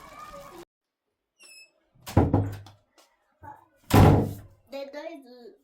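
A household door opens with a couple of heavy thunks and a rattle in a busy family home, between bursts of nearby talk.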